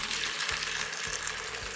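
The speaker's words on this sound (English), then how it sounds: "Boiling water." Water boiling in a pot for dyeing fabric, a steady bubbling hiss that continues evenly from start to end with no voices.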